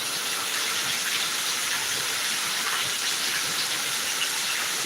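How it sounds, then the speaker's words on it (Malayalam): Heavy rain pours down in Thiruvananthapuram as a dense, unbroken hiss that stays steady and even throughout, with no voices. "അടിപൊളിയൊരു മഴ കാണാം"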